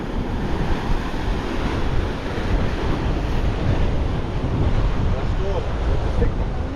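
Strong wind in Naxos Old Town roars and buffets the microphone in a continuous, loud rush, with the wash of waves mixed in beneath it.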